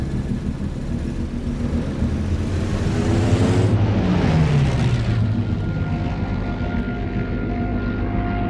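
Loud propeller warplanes roar past in a film about Dunkirk, the engine drone rising and then falling in pitch as an aircraft sweeps overhead, with steady heavy engine noise throughout.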